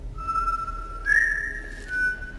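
A man whistles a tune in a thin, clear tone, sustained notes with a pitch rise partway through, heard alone against a faint low background rumble.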